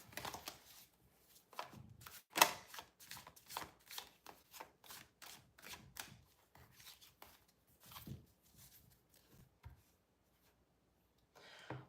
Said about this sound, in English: Just get a good shuffle on here.